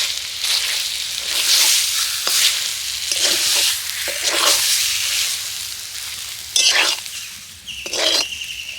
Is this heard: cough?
no